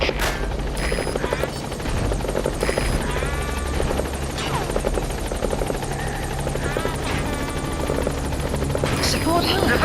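The Pequod support helicopter in Metal Gear Solid 5 thuds close and loud with rapid rotor chopping throughout, while game voices talk over it.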